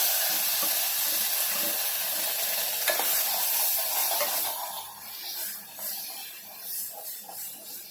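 A raw paste of ground onion and coconut, with turmeric and coriander-cumin powder, fries and sizzles loudly in a pan, a continuous hiss broken by rhythmic stirring scrapes that grow more distinct toward the end.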